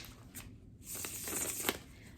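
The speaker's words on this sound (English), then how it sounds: "I'm just going to shuffle one more time." A deck of tarot cards being shuffled by hand, a short burst of riffling and papery flicks heard close up and fairly quiet, with no talking.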